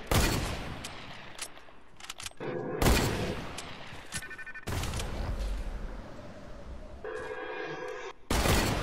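Repeated bursts of automatic gunfire in the Fortnite battle royale game, loud sharp volleys of shots separated by short gaps, some overlapping rattling fire, with no talk.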